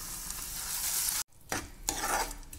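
Ground chutney is stirred into a pan of eggplant (badnekai) with the stove switched off, a close wet sizzle and scraping broken by a brief pause, then more stirring.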